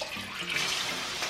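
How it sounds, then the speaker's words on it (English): Water pours steadily into a pot of cabbage borscht with potatoes, a close, continuous splashing rush lasting about a second without any voices. "So I'm just gonna go ahead and add some more water in here."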